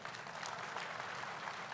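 Audience clapping at a political speech rally, a brief, faint burst of scattered applause heard from a distance.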